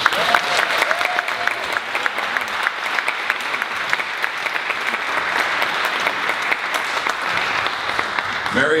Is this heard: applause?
yes